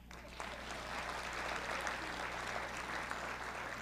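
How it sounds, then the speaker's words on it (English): Dinner theater audience applauding, a sustained burst of many hands clapping together in a room, steady and fairly full for several seconds. "ask you to respond by clapping"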